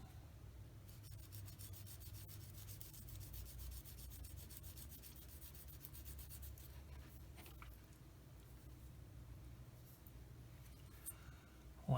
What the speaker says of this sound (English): So I'm going to hit those with the old sanding stick here.